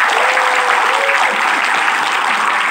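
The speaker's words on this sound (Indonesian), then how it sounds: "and then tepuk tangan ya buat semua" A large audience of thousands at a motivational coaching seminar gives loud, sustained applause, with crowd noise and a faint voice blended into the clapping.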